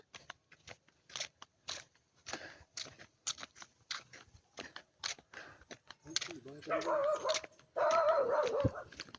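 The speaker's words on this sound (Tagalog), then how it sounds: "Hoy, may aso!" A dog barks in short, repeated bursts on a nature trip in the mountains, with excited voices talking and shouting over it toward the end.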